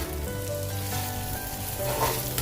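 Jackfruit pieces coated in turmeric browning in oil hiss in an even, dense sizzle with a faint low hum underneath and a few light clicks, steady and close throughout.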